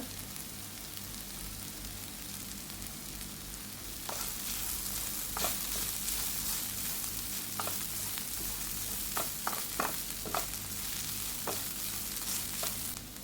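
Previously fried mustard seeds and fenugreek drop into a hot pan for a raw mango dish, setting off a steady, close sizzle with scattered sharp pops and crackles, no voices.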